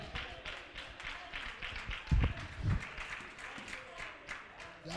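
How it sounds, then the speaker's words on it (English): An Apostolic Faith church congregation clapping their hands in praise, a dense crowd patter of many hands, moderately quiet and steady, with a couple of low thumps partway through. "Clap your hands and give him praise."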